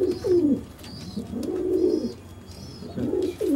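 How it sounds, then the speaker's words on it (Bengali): Colour pigeons in a Kolkata pigeon loft coo in repeated soft, rolling phrases, close and clear, with several calls overlapping across a few seconds. "তাও তো রেখেছি অনেক পায়রা"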